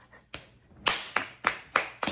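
Hands clapping close by, six sharp claps in a slightly uneven rhythm, starting with one clap and then a steady run of five, loud and clear with no talking.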